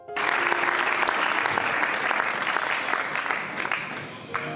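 A church congregation applauds steadily for the Lord, dense clapping with some cheering sustained throughout, loud and close, with no voice over it.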